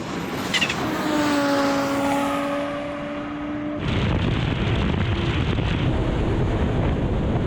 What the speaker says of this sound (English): That Sport Quattro is absolutely flying